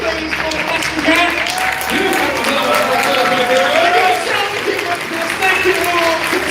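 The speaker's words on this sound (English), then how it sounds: "Huge round of applause, please, for the Mascots." A crowd applauds the mascots at a closing ceremony, steady clapping and cheering beneath a loud amplified voice and tonal sounds throughout.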